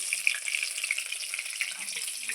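Stuffed ash gourd fritters fry in hot oil, a steady, moderately loud sizzle with fine bubbling crackles and no talk.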